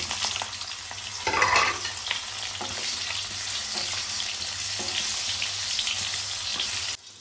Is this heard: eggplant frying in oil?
yes